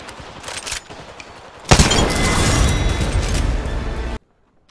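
Gunfire in Apex Legends: a few quieter shots crack first, then a loud, sustained burst of close rapid fire rattles for over two seconds before cutting off abruptly into silence.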